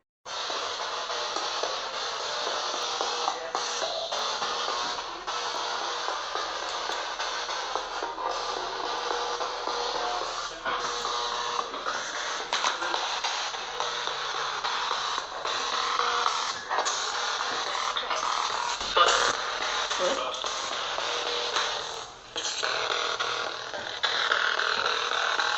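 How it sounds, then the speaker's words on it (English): A Spirit Box ghost-hunting radio sweeps through stations, giving a loud, continuous wash of harsh static with choppy flickers and brief dropouts for the whole stretch, with no voices. "the audio coming up is recorded immediately with the Spirit Box, which, as some of you may know, can be very loud and obnoxious"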